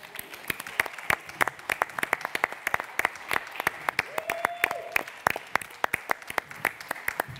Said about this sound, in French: je vous demande de les applaudir comme il se doit